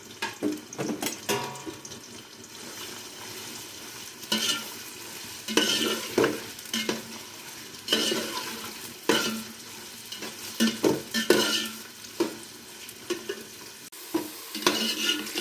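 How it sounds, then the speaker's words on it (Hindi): Onions frying until golden for chicken biryani, a constant sizzle broken by repeated stirring and scraping in bursts, loud and close with pan clatter and no voices. "पहले हम इसके अंदर प्याज शामिल करेंगे। गोल्डन होने तक हमने इसको फ्राई करना है।"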